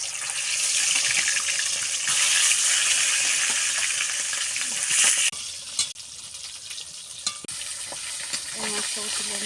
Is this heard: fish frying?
yes